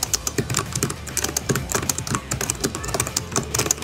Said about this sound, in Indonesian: Udah menggunakan mechanical keyboard dengan switch dari Cherry MX.